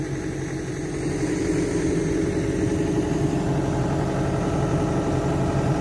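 A low, steady diesel excavator engine idling with a constant rumbling chug throughout, fairly close, with no talking.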